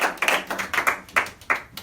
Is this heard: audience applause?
yes